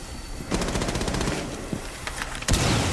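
Rapid automatic gunfire from a Rainbow Six Siege match rattles in fast bursts, loud and dense, pausing briefly before another burst starts, with no talking.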